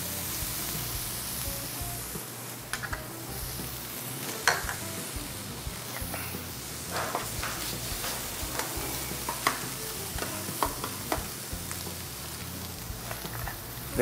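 Onion and bell pepper fry in a pan with a constant crackling sizzle, broken by scraping stirs and small pops, with no talk over it.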